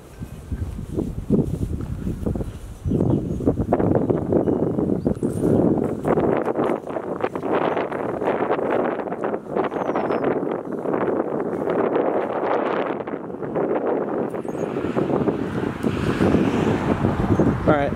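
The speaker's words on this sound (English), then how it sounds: "once I back up here, it's going to get windy" Strong wind blows outdoors around a 2015 Wildwood Heritage Glen 327RES fifth-wheel camper, a loud continuous rumbling buffet against the microphone with gusty swells throughout.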